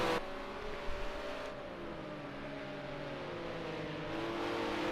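Ginetta GT4 race cars in the Project Cars 2 racing game drone steadily with rising engine harmonics as they climb through the gears, a continuous close engine tone that swells slightly near the end.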